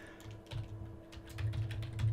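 Quick bursts of typing on a computer keyboard while coding in C++, soft close key clicks in an irregular patter that thickens toward the end, with a faint electrical hum underneath and no talk.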